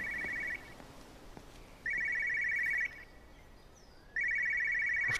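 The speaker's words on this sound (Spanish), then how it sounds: "es un teléfono de los antiguos" An old-style telephone rings in the video game Everybody's Gone to the Rapture, with three loud bursts of rapid bell trills separated by pauses over faint ambient background.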